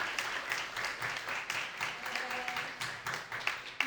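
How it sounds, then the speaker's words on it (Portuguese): An audience at an inaugural lecture claps together in a moderate, fairly quiet round of applause, steady patter lasting a few seconds at some distance. "eu queria uma salva de palmas para os dois"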